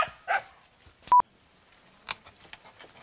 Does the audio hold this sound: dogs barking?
yes